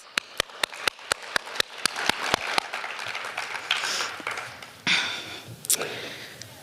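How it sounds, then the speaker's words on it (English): An audience at a student awards ceremony claps in a round of applause. It opens with a few sharp, evenly spaced single claps, then swells into fuller crowd clapping with scattered louder bursts near the end. "I would just like to celebrate her with a round of applause."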